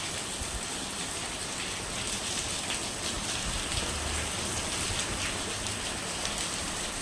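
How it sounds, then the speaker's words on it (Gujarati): Steady rain falls outdoors as a soft, even hiss of drops on surfaces, continuous and fairly quiet throughout with no voices. "વરસાદ જેવું લાગે તો વરસાદ આવી ગયો"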